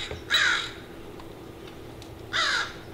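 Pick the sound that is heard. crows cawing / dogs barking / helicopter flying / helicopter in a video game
crows cawing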